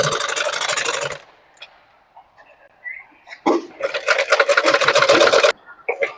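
Sewing machine stitching a blouse, a loud, close, rapid mechanical whirr in two bursts separated by a pause with small handling clicks.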